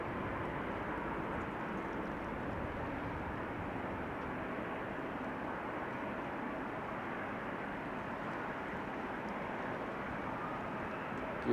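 An airplane lands on the Oostbaan runway 04 at Amsterdam Schiphol Airport, heard as a steady broadband engine roar at a distance that holds evenly throughout, with no one talking.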